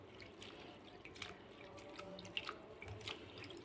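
Mustard greens (saag) are swished up and down by hand in a vessel of water, giving soft, faint sloshing and dripping sounds, with no talking.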